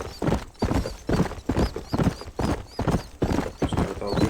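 Steady clip-clop of horse hooves at a brisk trot in the video game Red Dead Redemption, loud and close, with a few faint whinnies mixed in; no one talks.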